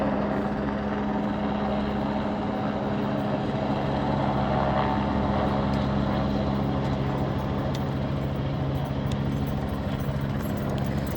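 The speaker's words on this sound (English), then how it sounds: "those are press copters," Press helicopters circle over a protest near a Chicago police station, their rotors making a continuous, steady drone at moderate distance that fills the whole stretch without any talk.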